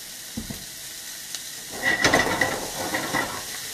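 Vegetables for a Greek potato hash fry in oil in a pan, starting with a few faint taps and then swelling into a steady close sizzle with light stirring scrapes.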